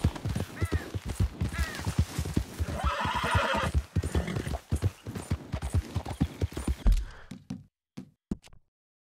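Horse whinnies and clip-clopping hooves from the Western video game Red Dead Redemption, loud and up close, with a steady gallop that slows and thins into a few scattered final hoof falls.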